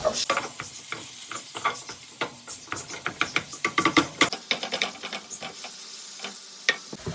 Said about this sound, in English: One of the things I really like about this pan is how the food gets a really good sear.